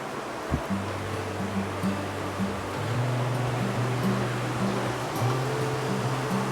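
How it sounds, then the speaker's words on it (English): Water runs through Hezekiah's ancient tunnel in Jerusalem, which leads to the Pool of Siloam. It makes a steady, enveloping rush that echoes in the enclosed passage, with a low, even hum underneath. "this is where the water starts running along the Hezekiah's tunnel all the way to the Pool of Siloam"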